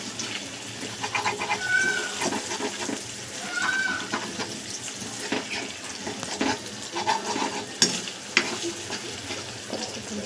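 Egg fried rice being stirred in a hot pan, with scraping strokes and a steady sizzle throughout, at moderate volume with a few sharper knocks near the end.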